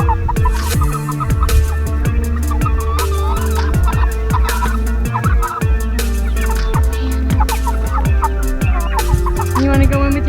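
Turkeys gobble in bursts inside a barn, the rattling calls repeating close by among chicken clucks and other fowl noise.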